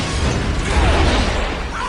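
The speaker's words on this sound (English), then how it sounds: "An explosion in The Grinch." A dense, sustained roar of an explosion from The Grinch film fills the whole moment, loud and unbroken without distinct peaks.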